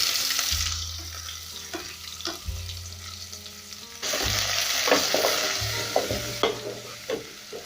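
Onions hit hot cooking oil in a pot for a bean stew, giving a continuous close sizzle with scraping and stirring clatter over it. The frying grows louder partway through.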